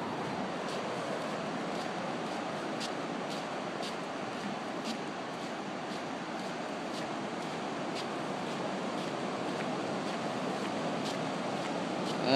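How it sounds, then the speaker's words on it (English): Ocean waves wash steadily onto a beach in a continuous, even roar, with wind buffeting the microphone. No voices are heard. "I want to see how Riley takes to waves."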